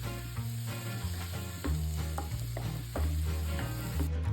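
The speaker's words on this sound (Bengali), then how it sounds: "আবার ভালো করে এটাকে ফ্রাই করা শুরু করলাম।" Mushrooms frying in butter with black pepper, a close, busy sizzle mixed with stirring and scraping in a pan, alongside low steady tonal hums that shift pitch in blocks, with no voices.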